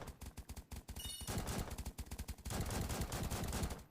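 Gunfire in a Lego Titan shooting video game: rapid bursts of automatic shots rattle out in quick, evenly spaced volleys, loud and close, with brief gaps between strings of fire.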